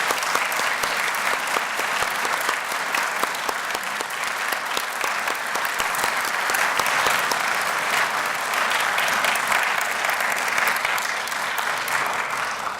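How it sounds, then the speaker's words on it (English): Sustained audience applause at a Living Treasures honoring ceremony, a dense, steady wash of many hands clapping at even loudness throughout with no speech over it. "So please join me in applause for this living treasure."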